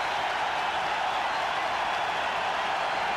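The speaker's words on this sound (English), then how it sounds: "Listen to that crowd now." A big stadium crowd roars continuously at a cricket Test match between India and Pakistan at Rawalpindi in 2004, a dense sustained wash of cheering and applause that stays level throughout.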